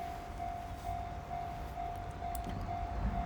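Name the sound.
train approaching a railway crossing in Japan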